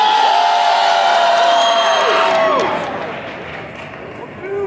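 Fan convention crowd at Salt Lake City FanX cheering and whooping for a contestant, a loud sustained roar of shouting voices that fades after a few seconds, then a fresh burst of yells.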